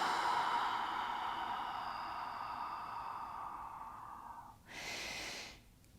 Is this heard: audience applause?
no